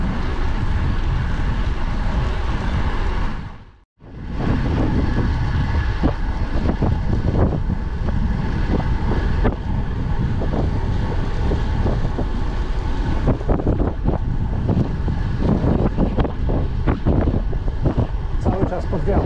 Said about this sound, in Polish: Cały czas pod wiatr.